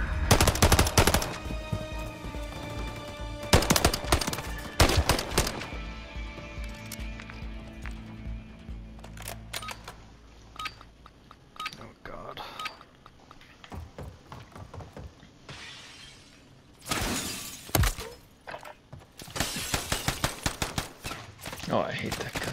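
Gunfire in the shooter game Modern Warfare 3 comes as loud rapid bursts and single cracks, clustered at the start and again near the end, separated by quieter stretches with sparse shots.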